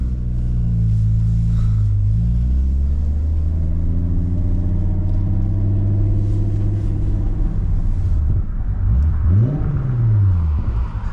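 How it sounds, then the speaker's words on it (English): Engine of a 1994 Volkswagen Corrado SLC VR6 with a 5-speed manual and aftermarket exhaust, heard from inside as it climbs through the revs, eases off, then pulls hard again with loud, steady V6 rumble and no talking. "The VR6 is one of the best sounding V6s out there."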